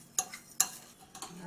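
Spoon scraping and mixing ingredients in a bowl, a few quick strokes with sharp clinks at the start of each stroke, close and fairly quiet.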